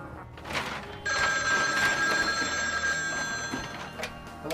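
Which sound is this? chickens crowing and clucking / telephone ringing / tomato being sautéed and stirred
telephone ringing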